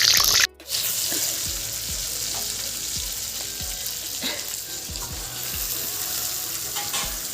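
Meat frying with onion and potato in oil with panch phoron and bay leaf for a Bhogali Bihu feast, a steady close sizzle with repeated stirring scrapes after a brief dip at the start, no voices.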